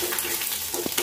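Chillies and garlic frying in hot oil for a Tamil pirandai thuvaiyal, a dense, loud, close sizzle and bubbling with a few sharper pops, continuous and with no talking.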